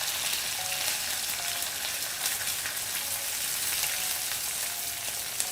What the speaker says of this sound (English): I'm going to first dunk in the garlic and the green chili.